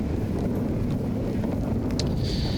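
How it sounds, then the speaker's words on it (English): Wind whips across an outdoor disc golf course in a steady, faint buffeting rush against the microphone, with no voices and a brief higher hiss near the end. "You can hear the wind just whipping as you line up there"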